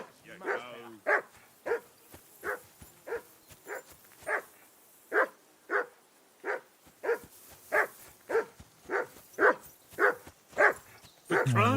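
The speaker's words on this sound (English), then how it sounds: "I assume you can hear that damn dog of yours barking." A dog barks repeatedly in Kingdom Come: Deliverance 2, about twenty steady, evenly spaced barks that are close and loud, with a short whine at the start and a voice cutting in at the end.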